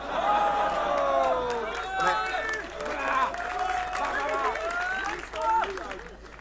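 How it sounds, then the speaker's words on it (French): Crowd applause and clapping at a rap battle between Mo and 2Taf, a steady dense wash of claps mixed with lively crowd chatter and cheering voices throughout. "Ah, les applaudissements, c'est cool"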